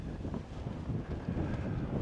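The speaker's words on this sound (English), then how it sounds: "All right, it's really windy." Strong wind gusting across a microphone on a 9,143-foot mountain summit, a steady low buffeting roar that swells and dips throughout, close and loud with no voices.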